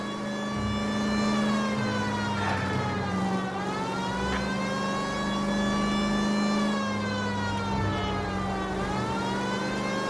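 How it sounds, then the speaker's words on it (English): Police car siren in the video game L.A. Noire, a loud continuous wail that sweeps up and down in long slow cycles over a steady low engine drone. "Well, at least the siren works."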